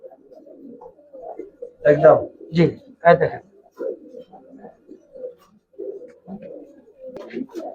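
An old-breed Giribaz pigeon coos in low, repeated bursts close by, while someone talks over and between the calls.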